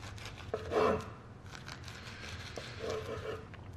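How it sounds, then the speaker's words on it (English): A serrated knife saws through a rolled nori wrap, giving two short crinkly, tearing bursts of crisp seaweed being cut, close and fairly quiet. "the best knife to use is a serrated knife. So you can just cut this into little pieces."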